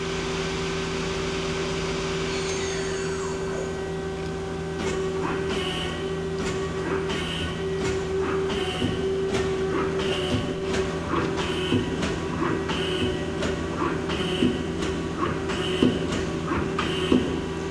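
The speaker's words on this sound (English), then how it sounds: "Spindle's nice and quiet." A Mazak Quick Turn Nexus 200-II CNC turning center spindle runs at 3,000 RPM, producing a steady, fairly quiet machine hum with a sustained whine and faint, regular ticking.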